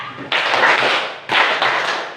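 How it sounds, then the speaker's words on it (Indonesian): A group claps a count of four, two broad bursts of dense hand claps about a second apart, loud and close, each burst sustained like rapid massed clapping rather than single strikes. "Coba tepuk empat."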